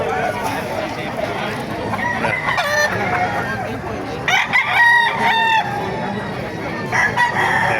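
Several roosters crow repeatedly, loud and close, over busy crowd chatter and clucking of many chickens at a chicken market in Baliuag, Bulacan.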